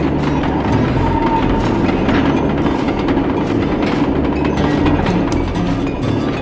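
A train rolls along tracks in the video game Sly 2: Band of Thieves, giving a steady, loud rumble with rhythmic clickety-clack and low engine drone throughout.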